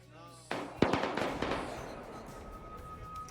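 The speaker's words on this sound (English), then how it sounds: "I think they're shooting at each other, yeah." Gunfire in the Arma 3 game, a couple of sharp cracks followed by a ringing, reverberant tail and a sustained tone, heard moderately loud after a voice cuts off.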